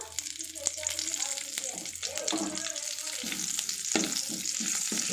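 Curry leaves frying in hot oil left over from roasting tomatoes for tomato chutney, giving a steady close sizzle with scattered crackles and stirring clinks, while a voice talks faintly in the background.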